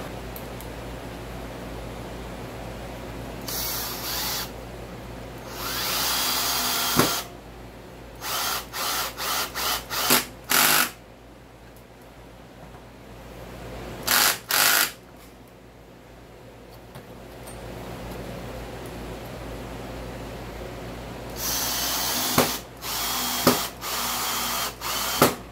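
HART 20-volt cordless 1/2-inch drill/driver driving screws, repeated short bursts of motor whine, some single and some in quick runs, with gaps of room quiet between them.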